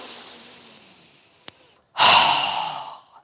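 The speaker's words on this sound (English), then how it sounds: "We're going to inhale through our nose and exhale with a strong exhale through our mouth." A single person breathes in gently and then releases a loud, forceful exhale through the mouth during a yoga session, close and clear with a brief click between the two breaths.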